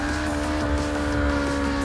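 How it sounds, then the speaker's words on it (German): A car doing a burnout with its tyres spinning: a loud, steady engine roar holds a constant pitch throughout, with no talking. "er macht einfach einen Burnout"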